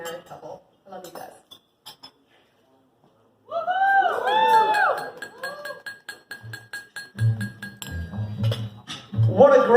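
Glasses and cutlery clink together at a wedding toast for a newly married couple, a dense run of bright chinks over a few seconds amid crowd murmur, with people talking before and after.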